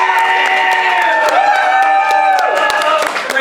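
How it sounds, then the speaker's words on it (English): Game show studio audience applause and cheering, loud and close, with clapping, whoops and shouts layered over sustained voices for a few seconds. "Let's hear another big round of applause for both our fakes and our fans here."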